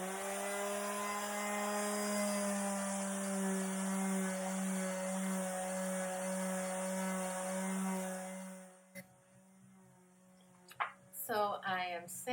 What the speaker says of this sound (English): So I am sanding, as you can see